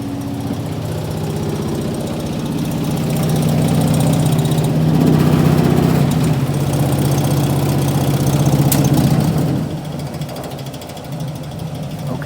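A mobile home furnace blower fan hums steadily on low speed, a loud, close, continuous drone that swells a little midway and then eases back, with no talking over it.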